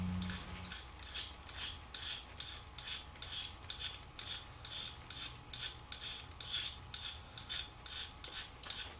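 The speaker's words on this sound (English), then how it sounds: "All we're doing is rubbing the blade down it sideways." A knife blade is rubbed sideways along a magnesium fire starter block, shaving off metal for wet tinder, making a steady series of about twenty close, rhythmic rasping scrapes with no speech.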